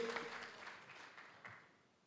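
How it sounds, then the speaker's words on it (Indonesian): A church congregation claps during a sermon, a soft, fairly distant patter of applause that stays faint throughout and eases off toward the end. "Berikan tepuk tangan dong."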